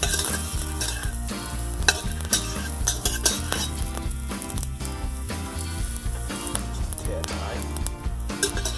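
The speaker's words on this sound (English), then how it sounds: "So we got our garlic all browned." Garlic sizzles as it browns in a soup pot for cabbage soup, with a spoon scraping and clinking against the pot now and then. A low background hum runs under the steady frying.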